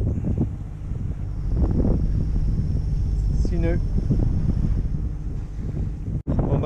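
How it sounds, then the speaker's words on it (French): Strong wind buffets the microphone at sea off Cap Corse, Corsica, steady and loud, with a brief whistling tone and a few spoken words underneath. "Voilà, ça y est, il est là le vent."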